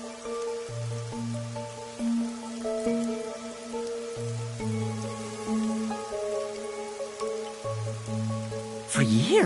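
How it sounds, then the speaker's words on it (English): Continuous rain falls in the game Raincode, a soft steady patter beneath a sustained musical score of held tones, with a brighter swell near the end. "the rain in our town hasn't stopped falling"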